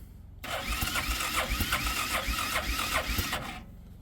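An engine cranks in cold weather, struggling to start: a starter motor grinds in a fast, even rhythm for about three seconds without catching, then cuts off, loud and close.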